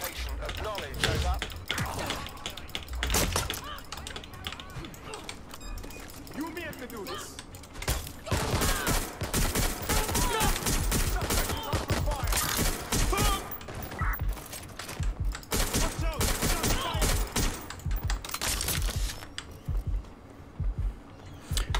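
Bursts of gunfire and mechanical clatter from the action game Watch Dogs: Legion, dense rapid shots that come and go over a continuous game soundtrack, loud and close, with a voice speaking now and then.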